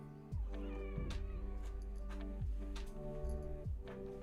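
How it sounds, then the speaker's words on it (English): A pet cat named Socks meows and complains near a computer keyboard, giving several drawn-out, whiny cries spaced a second or so apart, fairly close but soft. "I don't know if you can hear her meow and complain, but she's meowing and complaining"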